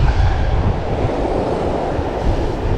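Wind buffets a seaside surfcasting spot by a jetty, a steady, loud roar of gusting air with a surf-like wash and no voices.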